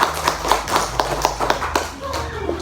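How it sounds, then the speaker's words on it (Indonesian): A classroom of students claps for a group after its presentation, a quick burst of rhythmic, fairly loud hand claps that fades out, with voices mixed in. "Beri tepuk tangan untuk kelompok 2."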